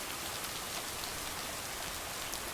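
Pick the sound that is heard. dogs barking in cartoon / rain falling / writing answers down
rain falling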